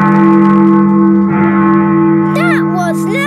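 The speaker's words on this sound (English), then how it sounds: "That is the sound of Big Ben telling us the time." Big Ben, the clock tower bell, tolls deeply with a long, humming resonance that rings on steadily, while a voice speaks over the fading tone.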